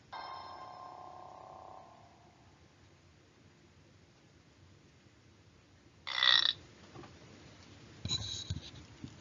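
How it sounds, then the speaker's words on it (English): A cartoon burp voiced for a white blood cell closes an animated science piece about a neutrophil engulfing bacteria. It is a short, moderately loud gurgle near the end, after a quiet stretch and a brief chirpy sound effect. "this super scientific video ends with a burp, a white blood cell burp"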